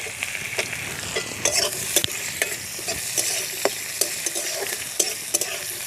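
Chopped onions sizzle in hot oil with bay leaves, chilli and whole cumin while a utensil stirs them, giving repeated sharp scraping knocks over a steady frying hiss.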